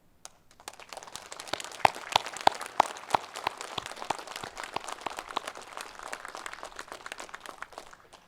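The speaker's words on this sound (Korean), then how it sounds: "모든 분들께 깊은 존경과 감사의 박수를" Scattered applause from a modest crowd at a Korean Independence Movement Day presidential address, thin uneven claps rising and thinning out over several seconds with a few sharper close claps.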